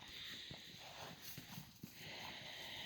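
Horses move about a farm pasture. A few faint, dull hoof thuds sound under a steady wash of wind and outdoor noise.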